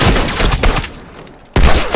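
Loud, rapid gunfire crackles from a multiplayer match of the video game The Last of Us Factions, a dense burst that drops off briefly before another sharp volley starts near the end.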